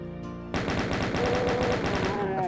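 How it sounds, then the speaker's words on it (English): A chaingunner enemy in Doom on the Eternity Engine opens fire after a brief musical lead-in, a loud rapid stream of evenly spaced shots rattling nonstop over game music, close and sustained. "Of course it's a chain gunner."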